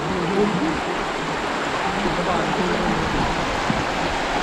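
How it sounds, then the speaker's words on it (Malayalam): A steady, full rush of river water flowing at Arattukadavu near Malayattoor, a constant close broadband wash with no pauses. "ഈ പുഴ ഇങ്ങനെ ഒഴുകുന്നു"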